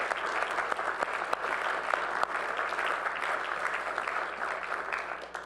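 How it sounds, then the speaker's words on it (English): A city council chamber audience applauds building inspectors standing up in the room. Steady, moderately loud clapping from many people holds evenly for several seconds and then tapers at the end. "Let's give them a round of applause if you don't mind."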